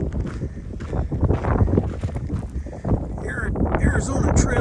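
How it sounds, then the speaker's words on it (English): Strong gusting wind on the Arizona Trail buffets the microphone in a steady roar, with a few brief louder bursts toward the end. "Woo, it's windy."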